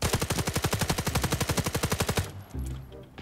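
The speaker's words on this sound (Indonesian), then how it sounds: "Kita tembakin aja." Rapid automatic gunfire from the Arena Breakout battle royale mode, a steady loud burst of evenly spaced shots lasting about two seconds before cutting off to quieter game noise and low rumble.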